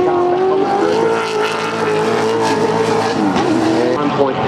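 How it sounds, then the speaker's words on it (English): A Touring Car Masters race car at Symmons Plains, a Ford or Holden, roars loudly past as a brake locks and tires squeal, with a commentator talking over the engine. "Gary Trelaw just locking a brake there."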